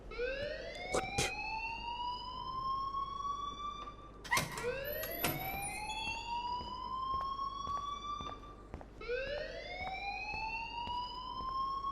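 A school alarm rings in the video game Life is Strange: loud, repeated rising electronic sweeps, each climbing and holding before restarting, with a few sharp clanks in between.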